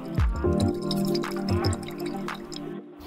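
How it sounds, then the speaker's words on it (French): Oil drizzled over food during preparation of a giant homemade Kinder Surprise, a few soft wet drips and splatters up close over about three seconds, with faint background clatter and no speech. "Versez de l'huile dessus."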